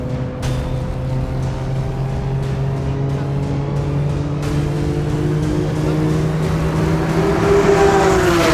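A tuner car's engine pulls hard through a launch, its droning tone climbing steadily in pitch and growing louder toward the end, heard close and continuous from start to finish.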